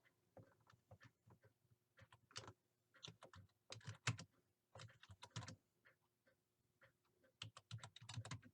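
Typing on a computer keyboard in irregular bursts of close, crisp key clicks with short pauses between words.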